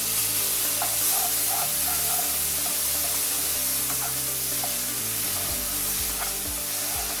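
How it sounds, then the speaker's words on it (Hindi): Onion paste with spices fries in oil over a low flame, giving a steady, loud, close sizzle that continues unbroken, with faint stirring scrapes mixed in. "अनियंस को 3 से 4 मिनट तक हम लो फ्लेम में फ्राई करेंगे"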